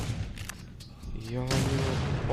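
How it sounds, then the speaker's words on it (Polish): Chain explosions in the video game The Suffering rumble as a series of booming blasts and gunfire-like bursts that build and sustain toward the end, with a voice talking over them. "jak widzicie, ładnie to wybucha łańcuchowo"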